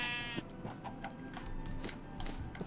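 A single sheep bleat opens the moment in Minecraft, brief and fairly faint, followed by soft game ambience and scattered low clicks.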